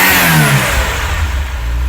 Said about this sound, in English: Finally the new plugs have sorted out the slight misfire and I had the engine sounding great.